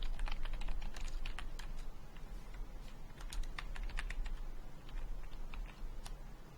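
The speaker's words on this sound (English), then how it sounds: "I can hear you typing very well." Computer keyboard typing with irregular bursts of sharp clicks over a steady low hum throughout, close and moderately loud, no talking.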